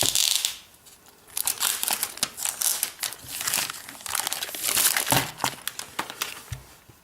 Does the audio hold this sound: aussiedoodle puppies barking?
no